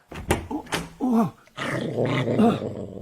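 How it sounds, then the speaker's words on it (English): A dog growls in a couple of low, rumbling bursts with short snarling barks, close and fairly loud, with no speech. "Dog."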